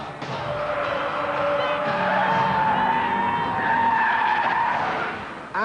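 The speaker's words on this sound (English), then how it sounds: "And there goes Steve Soper in his road-going BMW." Road-going version of a BMW touring car lapping Silverstone, its tires squealing in a long sustained skid with a rising engine note underneath, loud and close before a sharp cut at the end.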